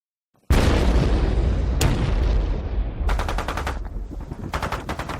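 A heavy cannon boom opens into sustained rattling gunfire, with rapid bursts of shots continuing over a rumbling, echoing battle din, in a naval-base assault.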